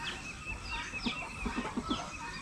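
Native Parawakan chickens cluck softly in a farmyard, a few short clucks in a loose cluster, fairly faint against a steady background hiss with some higher bird calls mixed in.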